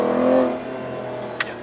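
Naturally aspirated engine of an older-generation Aston Martin revving, a loud, steady harmonic drone that eases off after the first half second, with a brief sharp click near the end.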